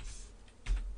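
A computer keyboard is used to type a password in a Linux terminal, giving a few quiet, soft key clicks spaced through a short second, with the louder tap near the end, and no talking.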